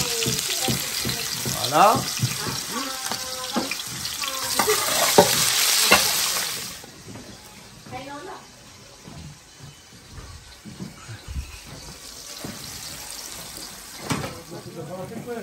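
Onions sizzle in a pot while being stirred, with close scraping and clinking over a steady fry that is loudest early on, and people talk intermittently throughout.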